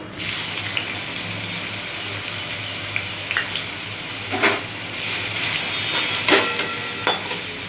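Potatoes frying in hot white oil for a red potato fry, a continuous close sizzle with a few louder bursts of crackle and spatter near the end, no voices.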